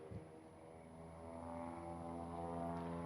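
A propeller aerobatic airplane performing a Humpty turnaround at an air show drones steadily at a distance, its engine tone swelling slightly, with no talking over it.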